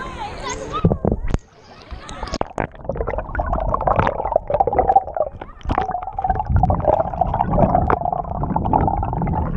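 Muffled underwater sound picked up by a camera lowered on a pole beneath the water: splashing and sloshing at first, then a continuous dense, bubbling rumble with a faint voice at moments.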